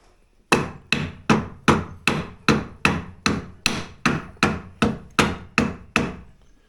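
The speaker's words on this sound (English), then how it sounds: "I'll just give it a tap with a hammer or something and see if I can make that come over" A hammer strikes a hovercraft drive-system part up on a lift, about thirteen sharp, evenly spaced blows roughly every half second, each ringing briefly and decaying, loud and close with no talking.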